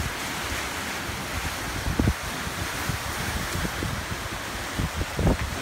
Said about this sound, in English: And it's causing these big waves through what is normally calm water